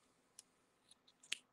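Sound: scissors cutting yarn

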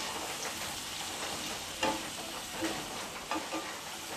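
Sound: papaya with turmeric being stirred and fried in a pan

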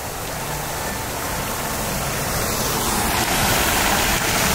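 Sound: water fountain splashing

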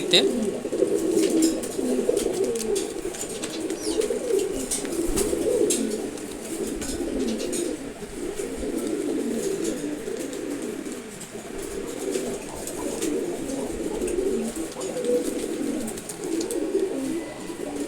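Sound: pigeons cooing

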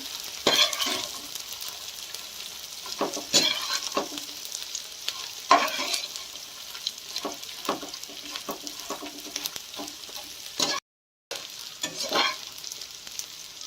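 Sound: edible gum (gond) frying in ghee on low gas

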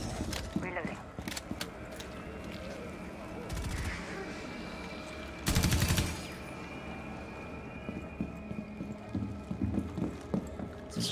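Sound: gunfire in the video game Rainbow Six Extraction

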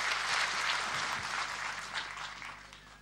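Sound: audience applause for a singer

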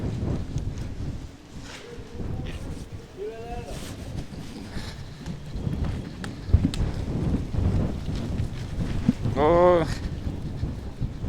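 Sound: wind blowing through a street

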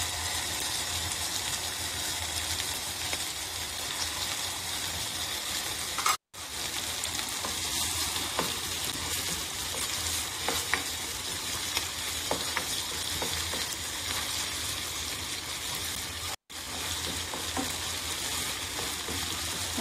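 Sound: tomato paste frying and being stirred in a pan for chicken curry

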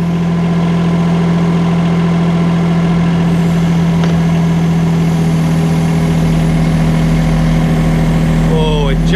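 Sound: mini excavator engine revving

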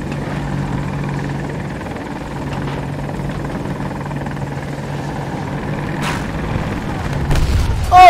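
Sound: helicopter blowing up while landing in a video game

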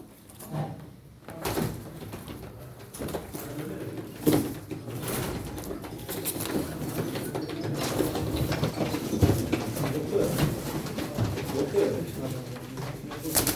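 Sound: pigeons at a pigeon auction

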